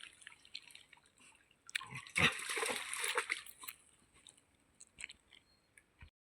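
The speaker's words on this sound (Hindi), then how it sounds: "यहाँ पे जो पानी निकल रहा है" Water running out of a spout for drinking, splashing and dripping, with a louder gush of spatter in the middle between quieter trickles and drips.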